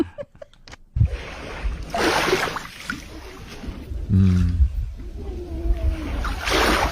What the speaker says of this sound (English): That's a wave right there.